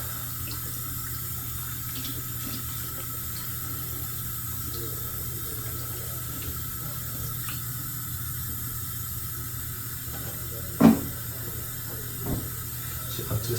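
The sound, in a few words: tap water running while rinsing a shaving brush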